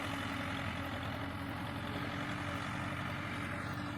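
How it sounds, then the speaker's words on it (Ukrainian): A steady, droning diesel tractor engine rumbles continuously at a moderate distance while discing a manured field, with no talking and no change in pitch throughout. "Розкинули перегній і трактор дискує."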